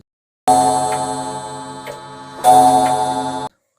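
An old graveyard clock sounds in a Hindi horror comic narration: two loud, ringing metallic bursts, each about a second long, with faint ticks pulsing through them and silence before and after.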